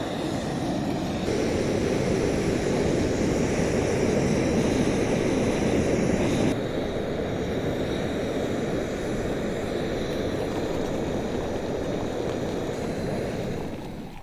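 An AYADA portable gas stove burner runs on turbo setting with a loud, steady roaring hiss that shifts slightly in tone partway through, with no one speaking.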